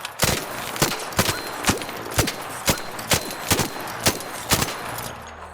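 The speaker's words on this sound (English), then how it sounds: "So 20 rounds with the Stitcher is a headshot." Stitcher gun fired in the ARC Raiders video game at a training range: nine sharp, evenly spaced reports about half a second apart, loud and close, with no talk.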